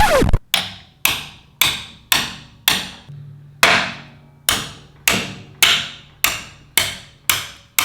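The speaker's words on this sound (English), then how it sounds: "When in doubt, get a hammer?" A hammer strikes hard about a dozen times in a steady rhythm on a wrecked Ducati Monster 1100 being rebuilt, each sharp metallic blow ringing briefly, loud and close with no talking.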